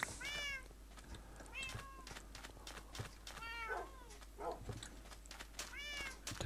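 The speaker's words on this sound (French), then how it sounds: "Le pauvre petit chat." Repeated cat meows from the video game Minecraft, several distinct calls spread over a few seconds, clear and fairly close with no talk.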